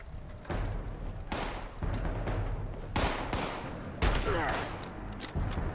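Rifle gunfire in the Fallout 76 video game, with several loud, sharp shots spaced about a second apart, each ending in a short echoing tail.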